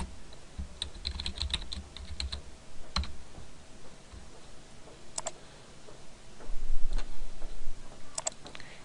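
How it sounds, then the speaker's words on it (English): Typing on a computer keyboard during a programming lesson, with irregular bursts of close, crisp key clicks separated by short pauses against a soft background hiss. "And type in expressions interactively."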